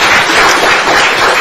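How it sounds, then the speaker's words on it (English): Dense, loud crowd applause fills a Kenya-Ghana joint media briefing at Jubilee House in Accra, a steady wash of many hands clapping without a break. "A round of applause."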